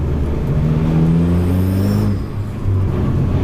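A Dallara Stradale supercar engine revs with a strong, rising harmonic drone, climbing in pitch, briefly dipping, then picking up again, loud and close with no talk.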